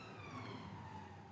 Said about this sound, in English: That's a siren going past,